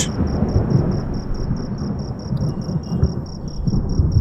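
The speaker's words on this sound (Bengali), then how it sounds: "বৃষ্টি শুরু হলো এ বৃষ্টি তো মনে হয় না এত তাড়াতাড়ি কমবে" Heavy rain pours steadily through a stormy night in an animated horror scene, with thunder rumbling low beneath it and a thin, steady insect-like chirp running on top.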